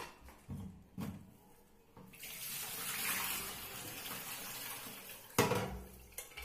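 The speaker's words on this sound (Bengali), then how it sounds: "এটা যেহেতু সম্পূর্ণ আমার প্রেসার কুকারে হবে, তার জন্য আমি জল বসিয়ে দিচ্ছি।" Water pours into a pressure cooker being readied for baking a chocolate cake, a quiet gushing stream lasting about three seconds, framed by a few knocks and clatters of metal, with no speech.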